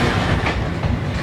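Yarra Valley Railway tourist train running on the tracks, loud close rumble with rhythmic wheel clatter heard from on board, steady throughout.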